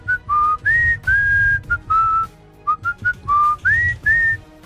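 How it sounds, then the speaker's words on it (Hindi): A person whistles alone and close, a series of short, clear, bright tones and upward slides in a loose phrase, loud and clean with quiet gaps between notes. "ऐसे सीटी बजाते हैं"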